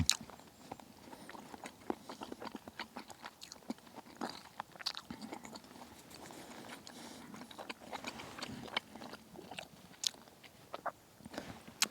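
Chewing and crunching on a spoonful of low-carb summer sausage stew with vegetables, close up and alone, with irregular soft bites and mouth sounds repeating throughout.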